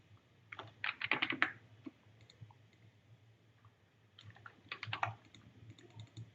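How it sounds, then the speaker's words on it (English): Computer keyboard keys pressed in two short bursts of rapid, close clicking separated by a quiet pause, with a faint steady hum underneath and no talking. "Something's up with my keyboard."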